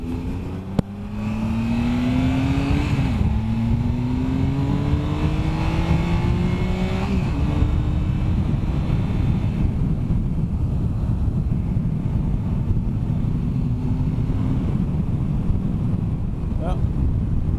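A motorcycle accelerates up to highway speed, its engine pitch climbing through several gear shifts before settling into a steady high-speed roar under heavy wind rush, heard from the rider's helmet.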